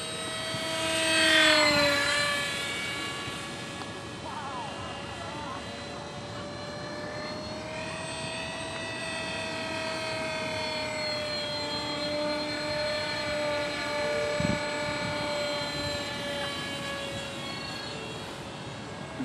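A remote-controlled model airplane flies nearby with a continuous high, buzzing motor whine that swells as it passes close and then holds steady, with faint wind noise and a few soft bumps in the background.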